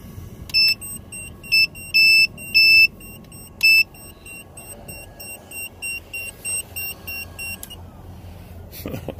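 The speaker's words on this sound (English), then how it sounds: "I didn't hear this beeping while I was driving" Electronic warning beeps from a truck, a loud, regular series of short high tones in bursts that stop partway, leaving quiet background hum.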